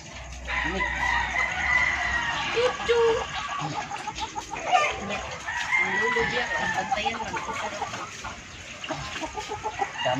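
Free-range chickens and ducks on a rural farm cluck and crow during feeding, a busy overlapping flock sound close by, with people talking at times.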